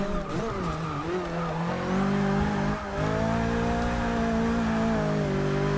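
A Nissan Silvia in Forza Motorsport 6 corners in third gear, its engine droning steadily with a sustained tire squeal through the turn, loud and continuous.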